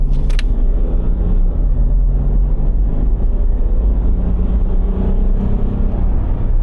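A restored Land Rover engine revs up to 4000 RPM on the road, producing a loud, continuous low rumble and drone with steady road noise and no break.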